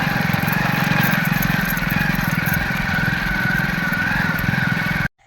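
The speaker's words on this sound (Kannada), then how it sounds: "ಫೈನಲಿ ನಮ್ಮ ಮನೆಯವ್ರು ಬೈಕ್ ಓಡಿಸೋದು ಹೇಳ್ಕೊಡ್ತಾ ಇದ್ದಾರೆ." A motorcycle engine runs steadily and loudly close by, a continuous buzzing drone that cuts off abruptly at the end.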